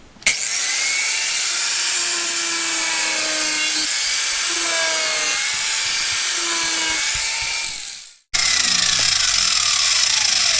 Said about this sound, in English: You don't open packages with an angle grinder?